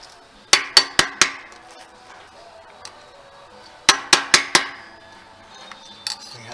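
Hammer strikes on a 5 by 8 utility trailer part: two bursts of four sharp metallic blows each, evenly spaced and loud, with quiet pauses and a couple of faint knocks between.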